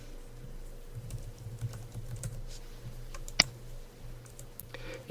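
Soft typing on a computer keyboard, a steady patter of light key taps entering a URL, with one sharper click near the end over a faint background hum.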